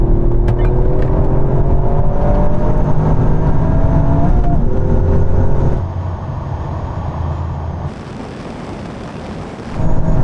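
A Honda Civic Type R and a Toyota GR Yaris accelerating hard side by side in a third-gear roll-on drag race from 50, loud rising engine drone with climbing tones, then fading into wind rush and a final gust.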